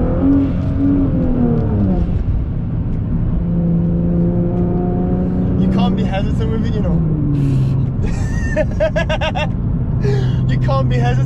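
An 800bhp Nissan GT-R accelerates hard from inside the cabin, its engine note climbing and dropping through gear changes, loud and continuous beneath people talking.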